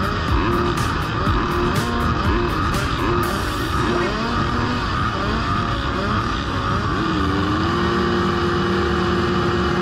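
Motorcycles at a dirt track race start, a dense loud roar of many engines revving and accelerating together, close, with a brief rhythmic clatter early on.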